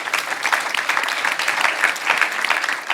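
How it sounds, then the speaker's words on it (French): An audience at a talk on Black political history breaks into steady, dense applause, a close, continuous wash of clapping for about three seconds. "On peut applaudir, oui."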